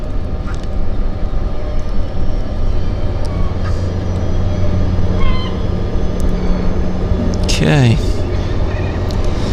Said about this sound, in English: I hear turbines.